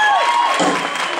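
Audience applause and cheering from a crowd at a live show, voting on who receives a T-shirt; dense, continuous clapping fills the short clip at close range with no voice over it.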